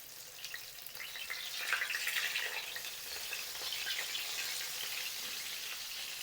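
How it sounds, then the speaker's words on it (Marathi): Surmai (kingfish) fillets fry in a pan over a low-medium flame, giving a steady, moderately loud sizzle that swells a little partway through and carries on without any voices. "ह्याही साईडून आपल्याला 4 ते 5 मिनटं लो टू मिडियम फ्लेमवरती फ्राय करून घ्यायचं आहे"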